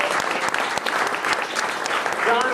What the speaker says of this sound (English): that alone deserves a round of applause to John